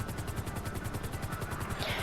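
A video game helicopter keeps flying nearby, its rotor chopping in an even, fast rhythm at a constant level, with a slight brighter swish near the end and no voices.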